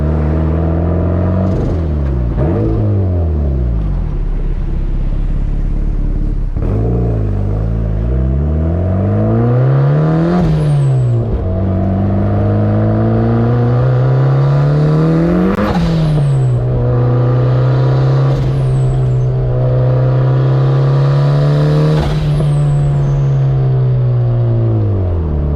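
A built turbocharged Mazda Miata of about 400 horsepower pulls hard on street drives, engine note sweeping up through the gears with rising revs and brief shift dips, loud and constant from inside the car.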